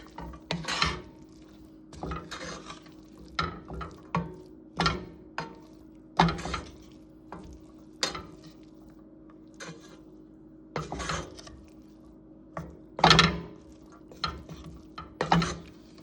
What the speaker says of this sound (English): Just kind of stir it and mix it together.